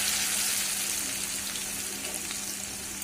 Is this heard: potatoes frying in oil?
yes